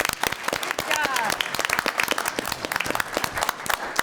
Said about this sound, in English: Can we applaud them real Yes. quick?